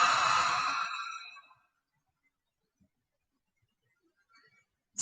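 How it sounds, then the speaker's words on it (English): A single long open-mouth exhale during yoga breathing, breathy and fairly loud at first, then fading away over about a second and a half into near silence, with a brief soft sound at the very end. "And then open mouth, exhale."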